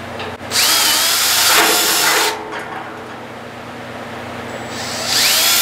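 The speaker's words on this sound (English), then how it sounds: "I'm just going to pre-drill with a 3/16 bit" A power drill with a 3/16 bit whines at high speed in two bursts, pre-drilling metal for a welding cart with a gritty grinding edge, close and loud, with a quieter spin-down between.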